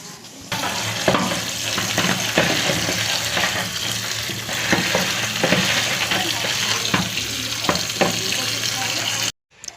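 Boiled veg chow mein noodles are rinsed in cold water, a steady, close rush of running and splashing water with intermittent knocks and scrapes, ending abruptly.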